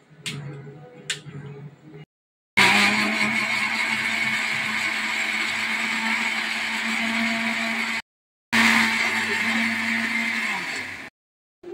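A mixer grinder with water added runs loud and steady in two long bursts, whining with a low motor hum, then cuts off briefly between runs; a short stretch of voice comes before the first burst.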